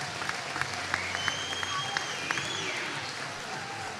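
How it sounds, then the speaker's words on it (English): Crowd applause for the blue volleyball team at a North Dakota Optimists series event in Fargo, a steady wash of many hands clapping with occasional louder claps and a faint voice underneath, filling a large indoor gym. "Big round of applause for the blue team."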